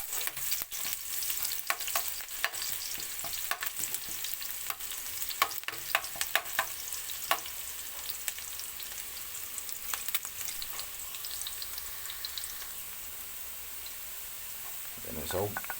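Garlic and onion sautéing together in a pan for Bicolano pancit bato, giving a steady mid-level sizzle broken by frequent sharp clicks and scrapes of stirring, easing off slightly near the end.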